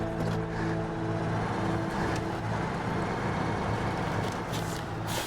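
A Freightliner 114SD truck engine running, a steady rumbling drone with a rough, continuous low throb and harmonic hum, close and even in loudness across the whole stretch.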